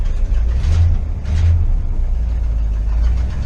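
Newer engine of a big farm machine running after being choked, a steady low rumbling idle close by with a couple of brief swells in throttle.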